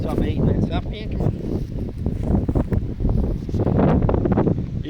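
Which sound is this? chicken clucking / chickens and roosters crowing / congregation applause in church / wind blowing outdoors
wind blowing outdoors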